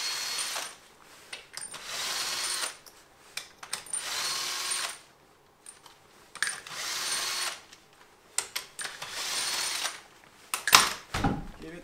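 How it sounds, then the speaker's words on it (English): A cordless power drill spins wheel nuts off a Land Rover Discovery 3 during a tire swap, in several loud, sustained whirring bursts separated by pauses, with metallic clinks as nuts drop, close up. "Use the drill."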